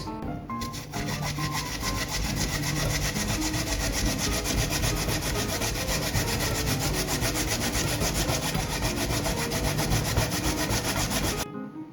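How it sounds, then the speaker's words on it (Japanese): Steady, loud rasping as a peeled vegetable is rubbed back and forth on a grater in a kitchen, a continuous scraping texture that runs close and alone until it stops abruptly at the end. "おろしていきます。"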